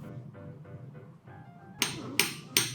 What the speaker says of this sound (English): Hammer lightly till it rotates no more.